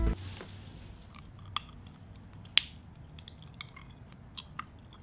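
Someone chewing raw honeycomb full of honey and wax, with soft wet mouth sounds and a few sharp clicks and squishes, close and fairly quiet, with no talk.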